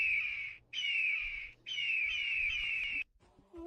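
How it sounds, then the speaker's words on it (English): A bird in the video game LIMBO lets out three long, harsh caws in succession, loud and close, each separated by a brief pause, with no one talking. "What a bloody angry little bird."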